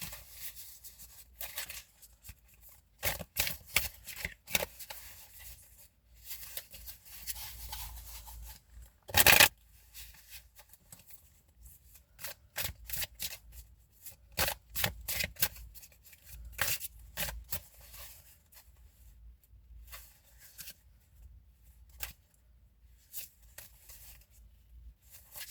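Tarot cards are shuffled by hand in quick riffling bursts, separated by pauses, with soft handling noises and one louder slap in between, close and clear with no talking.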